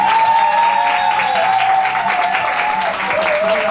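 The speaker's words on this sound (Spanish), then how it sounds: "un fuerte aplauso para Cumbi" A television studio audience claps in a continuous, fairly loud spread of many hands, with whistles or cheers and a held tone above it, and the crowd noise holds steady throughout.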